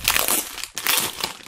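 Cheap plastic garbage bags with drawstring ties crinkle and rustle loudly up close as they are handled, in two bursts of crackling with a brief pause between.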